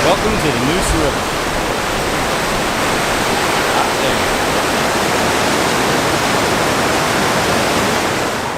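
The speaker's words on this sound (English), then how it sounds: "Welcome to the Neuse River." Steady, loud rushing of the Neuse River flowing past, a dense unbroken wash of water noise that fills the whole stretch without pause, close and constant.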